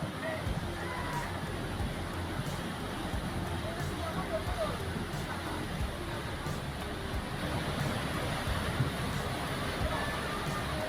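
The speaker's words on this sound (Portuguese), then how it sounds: "Aquele curso d'água transformou-se de sereno para um completo caos em aproximadamente 10 segundos." Floodwater in a river rushes in a steady, loud broadband roar as the surging current sweeps away a white SUV, the torrent continuous throughout with faint voices mixed in.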